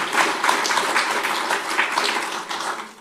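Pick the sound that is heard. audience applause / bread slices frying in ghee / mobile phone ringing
audience applause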